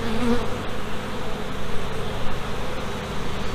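Honeybees swarm around open hives during a multi-hive inspection, a dense, steady buzz close up with a few faint ticks and clicks scattered through it.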